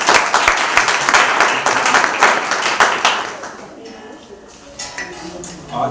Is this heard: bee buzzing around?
no